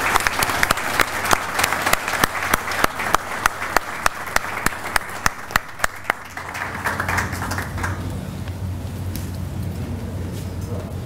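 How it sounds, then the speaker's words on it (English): At an accountants society's founding day lecture meeting, the audience applauds after a vote of thanks. A few loud, distinct hand claps ring out in steady rhythm before fading into softer, diffuse crowd clapping and murmur. "request all present to carry out this vote of thanks with a loud applause"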